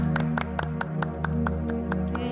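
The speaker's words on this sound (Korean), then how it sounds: "박수로 청해 듣겠습니다" Rhythmic clapping in time sounds on a KBS trot music stage as a singer's song begins, about ten evenly spaced claps over a sustained instrumental intro.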